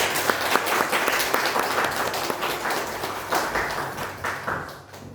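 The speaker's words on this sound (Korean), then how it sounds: "오실 때 박수로 힘차게" A church congregation claps warmly for an arriving guest at a men's mission service, dense rhythmic applause that swells and then tapers off toward the end.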